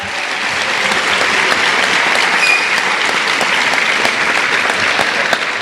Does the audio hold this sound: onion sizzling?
no